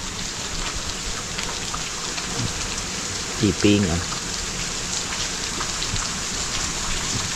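Steady rain falls loudly and continuously outdoors, a dense hiss throughout, with a short burst of speech cutting in briefly near the middle.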